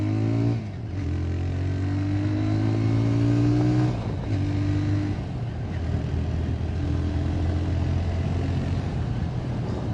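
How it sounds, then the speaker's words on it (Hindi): A TVS Raider 125 motorcycle accelerates hard, its exhaust rising in pitch through several gear changes and then holding a steady drone, loud and close with no talking. "साइलेंसर का साउंड एकदम बढ़िया देता है।"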